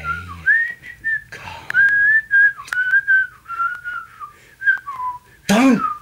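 Someone whistles a wandering tune in clear, sustained notes close by, with short gaps and a few clicks and rustles between phrases.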